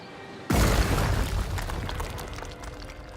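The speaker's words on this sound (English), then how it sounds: "What was that explosion?" A cinder bomb detonates in the fantasy role-playing game Pillars of Eternity 2: Deadfire, a sudden loud boom at about half a second followed by a long rumbling decay with crackling debris, no voices.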